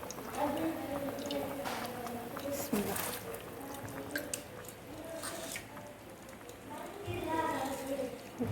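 Soaked rice is tipped into a pot of boiling water for chicken biryani, giving soft wet squelches and bubbling splashes, with a voice talking over the cooking sounds.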